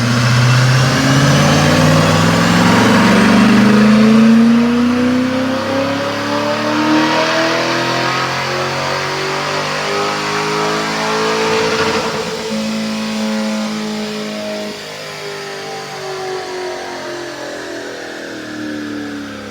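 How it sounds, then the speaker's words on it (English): A 2022 Corvette C8 Stingray with Lingenfelter mods and a RYFT titanium exhaust roars through a dyno pull, its engine note climbing loudly and steadily for several seconds before easing off, close and dominant with no talk. "Check out this dyno pull."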